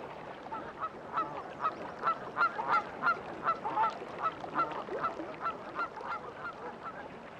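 Young Canada geese honk repeatedly in a steady, uneven chorus, moderately distant, with no voices.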